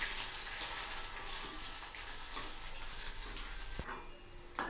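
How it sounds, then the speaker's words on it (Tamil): Idli pieces fry in hot oil in a pan over a low flame for chilli idli, giving a steady, dense sizzle and hiss that runs throughout with a brief sharp crackle near the end. "எண்ணெய் காஞ்சதும் நம்ம வந்து இந்த இட்லியெல்லாம் பொறிச்சு எடுத்துடலாம்"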